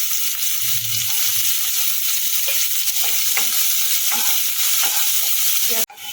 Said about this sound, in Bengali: এবার আমি দিয়ে দেবো পেঁয়াজটা পেঁয়াজটা পেঁয়াজটা একটুখানি লাল লাল করে আমি দিয়ে দেবো